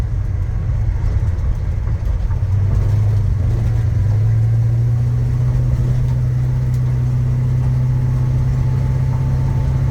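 A 1966 Chevrolet C10 pickup truck drives along bumpy back roads, its engine humming steadily from inside the cab with a low drone that rises slightly in pitch midway as it pulls, with no talking.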